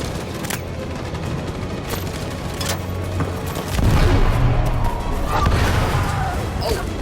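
A grenade blast and bursts of gunfire in the video game Detroit: Become Human, with scattered shots giving way to a louder, sustained rumble of explosion and battle noise partway through, under occasional talk.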